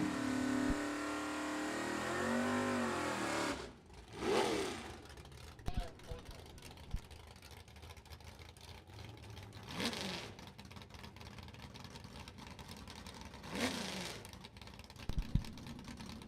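Heads-up drag racing cars launch hard down a drag strip, a loud rising engine roar at the start that fades, with an announcer talking over the track noise afterward.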